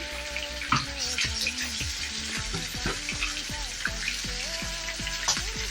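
Two green chillies go into a hot pan with salt and turmeric for gongura pulihora, giving a busy crackling sizzle with sharp pops and spits close by and no voices.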